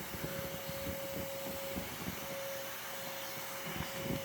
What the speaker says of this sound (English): Doing a lot of excavating with the vacuum.